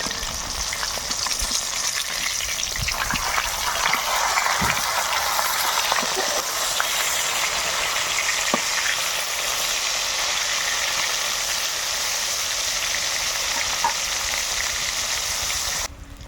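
Rohu fish pieces, just flipped, fry in hot mustard oil in a kadai, giving a steady, close, dense sizzle that holds evenly for about sixteen seconds before dropping away at the end.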